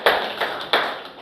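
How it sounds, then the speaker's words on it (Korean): Three short bursts of hand clapping at a lecture gathering, each starting sharply and trailing off, moderately loud and fairly close, with no talk over them. "먹히는 거 박수 한번 쳐야겠네."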